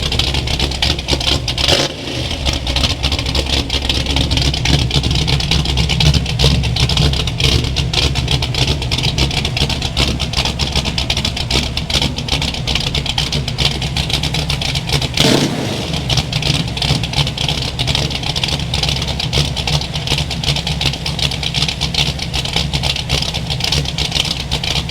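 A 1973 Pontiac Firebird engine runs steadily close up, its exhaust rumbling with a rough, continuous drone and slight revving, loud and unbroken throughout, outdoors in snow.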